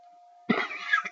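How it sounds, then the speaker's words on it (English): A single sharp cough, close and fairly loud, with a short rough burst that trails off after about half a second over a faint steady hum. "See that kind of cough?"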